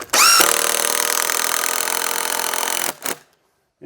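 A power drill drives a 3.5-inch screw into the wood of a firewood rack, a close, loud whir rising and then holding steady for about two and a half seconds before a short final burst and silence.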